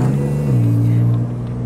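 A car engine droning loudly and close as the car drifts, the tone sliding up and holding steady in a strained rev.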